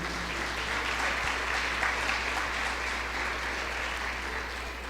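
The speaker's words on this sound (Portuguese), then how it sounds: "Uma salva de palmas para Jesus aí." Steady, dense applause from a church congregation, sustained evenly throughout without pauses or voices.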